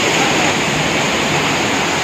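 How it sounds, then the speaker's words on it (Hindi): Water rushes steadily at a traditional Himalayan gharat water mill in Chamba, Himachal Pradesh, where the stream still runs beneath the mill although it no longer operates. The roar is close and loud, with constant broadband noise and no pauses. "एकदम देखो पानी का आवाज के सामने मेडिटेशन करना, इसके नीचे वाटर मिल रहा है।"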